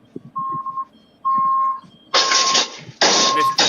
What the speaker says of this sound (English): Something's beeping.